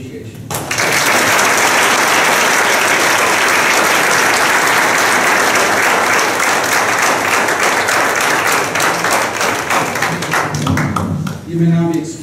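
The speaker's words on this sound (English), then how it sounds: "Let's give them another round of applause and appreciation." A speech contest audience gives the judges loud, sustained applause, a dense close wash of many hands that starts abruptly and holds for about ten seconds before fading under a voice.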